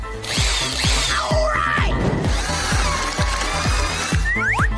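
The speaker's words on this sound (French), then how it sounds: "Je vais le faire avec une perceuse." A power drill bores a hole through a chocolate egg, giving a steady whirring grind with rapid repeated ticks, close and loud throughout with no pauses.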